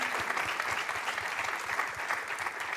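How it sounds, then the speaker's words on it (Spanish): A church congregation at a cathedral service claps steadily, a dense even wash of hands that holds at moderate level throughout with no talk over it. "denle un aplauso a Dios"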